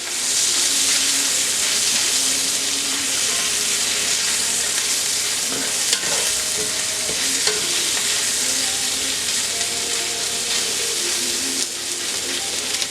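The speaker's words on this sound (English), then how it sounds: "when we're done getting a nice sear on the sausage" Sausage sears in a cast iron pan with home fries and onions, giving a loud, steady, broadband sizzle that continues unbroken while it is stirred now and then.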